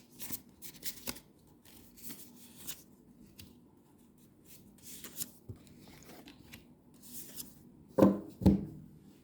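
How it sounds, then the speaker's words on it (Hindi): Tarot cards shuffled by hand in a quiet room, a soft papery riffling and rubbing that runs throughout with light taps, ending in two sharper card slaps near the close. "ये कार्ड इतने गिर क्यों रहे हैं"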